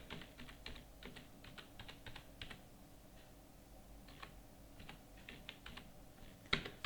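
Rapid typing on a computer keyboard while entering a GST number into accounting software, with steady close key clicks in bursts and short pauses, heard alone without talk.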